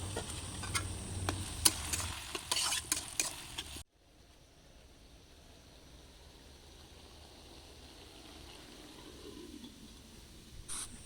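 Taro stolons and small local shrimp cook in a pan with salt, turmeric and a water-thinned spice paste, giving a burst of stirring, scraping and clattering for a few seconds before dropping to a faint, steady simmering hiss.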